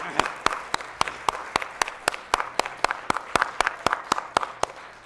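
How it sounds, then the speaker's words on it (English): Rhythmic group clapping at a NASDAQ opening bell event for Global Money Week, with sharp, evenly spaced claps about three per second, fairly close and steady, and no talk over them. "How about a big round of applause? Let's get the blood moving and get the clapping going."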